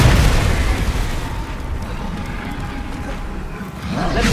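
A Confringo spell explodes in the video game Hogwarts Legacy: a loud, booming burst at the start, a rumbling tail, then a second blast swelling near the end.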